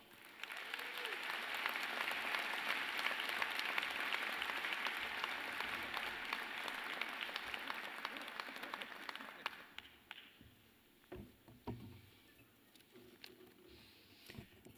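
Dense applause from a commencement audience greeting the 2017 December speaker at SMU, sustained and fairly distant, fading into scattered claps and small noises near the end.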